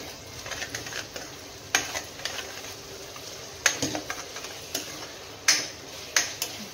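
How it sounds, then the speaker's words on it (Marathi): Gravy fries in a pan with a steady low sizzle, punctuated by sharp clinks and taps of a spoon stirring against the metal, close and fairly quiet. "तर ग्रेव्ही व्यवस्थित अशी फ्राय व्हायला आलेली आहे बघा"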